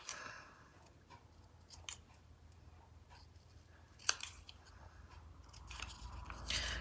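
Scissors cut the edge of a paper journal insert in a few quiet snips, one sharper snip near the middle standing out against a soft background, with no talking.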